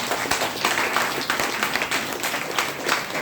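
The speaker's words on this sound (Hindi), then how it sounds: "जोरदार ताली बजाना चाहिए।" Audience applause at a program in Bhagwanpur, a dense, steady clapping from a crowd sustained throughout at fairly loud level.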